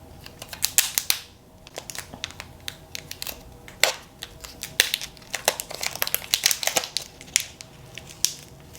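Plastic and paper packaging crinkles and crackles as a 7th generation iPad is unwrapped, close and irregular with many sharp rustling bursts.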